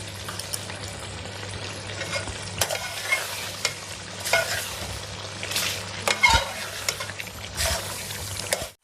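Beef white korma is sautéed in a pot with a constant oily sizzle, broken by repeated scraping stirs of a spoon against the metal and a low background hum.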